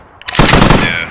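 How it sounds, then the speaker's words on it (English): A short, loud burst of rapid machine gun fire in a first-person shooter game, the rounds rattling in quick succession close by with no talking over it. "Whoever's shooting that machine gun, that's a dead body."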